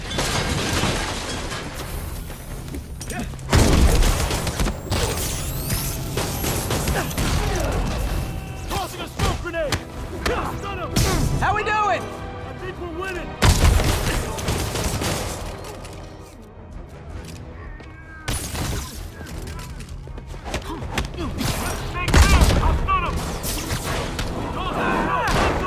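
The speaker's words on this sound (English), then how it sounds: "Taking aim! Popping smoke! Firing!" Gunfire and heavy explosive thumps in the video game Marvel's Spider-Man, a busy battle mix of repeated booms and shots with shouted voices and a music bed over it.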